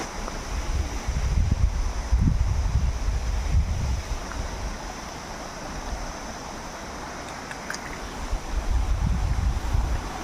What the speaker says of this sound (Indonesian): sungai nyebrang jalan